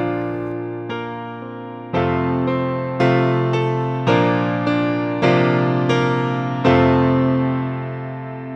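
A song on solo piano: slow, evenly spaced chords struck one after another, each sustained and decaying, played close and alone without any voice.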